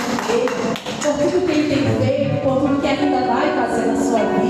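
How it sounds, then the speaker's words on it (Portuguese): A church congregation claps during an evening worship service, a steady stream of fairly loud, close hand claps that runs the full length alongside voices and background music. "Dê um aplauso ao Senhor nessa noite."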